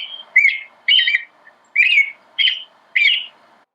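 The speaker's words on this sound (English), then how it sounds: "Listen to these bird songs with us and create your own mnemonic. Let's start with a robin." An American robin sings five clear, warbling phrases in an even rhythm with short pauses between them, close and alone.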